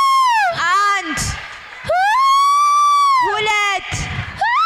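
A church congregation led by a preacher gives loud, drawn-out shouts in Jesus' name, three sustained cries separated by brief breathy pauses, close and forceful, with a few scattered voices in between.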